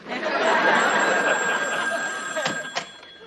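An old-style telephone bell rings indoors with steady, continuous ringing that sits under faint room noise and voices, then cuts off near the end.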